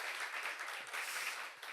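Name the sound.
congregation applauding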